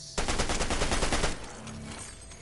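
Fortnite gunfire rattles in a dense, fast automatic burst that stops abruptly after about a second, leaving a quieter game background.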